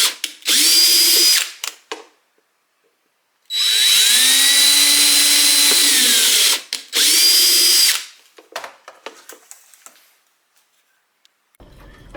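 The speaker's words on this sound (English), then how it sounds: "I'm using a 4mm drill tap combo." A 4mm drill tap combo bit drilling holes for a 3D-printed filament dry box hub, three loud sustained whining bursts with a pause between them, then scattered clicks and handling noises fading to quiet.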